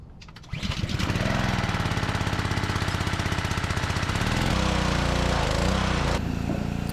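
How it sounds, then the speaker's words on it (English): A small engine on a pressure washer is pulled to start, catches with a loud burst and settles into a steady, fast, rattling run, close and continuous with no talk. "Now I gotta turn this on and pull this one out to start the engine"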